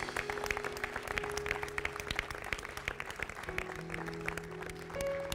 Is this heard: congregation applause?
yes